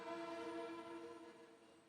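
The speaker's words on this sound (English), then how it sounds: "The trains are celebrating too." A train horn or whistle sounds at a commencement ceremony, a sustained tonal blast with rich harmonics that fades gradually over two seconds, heard faint and distant with no talk over it.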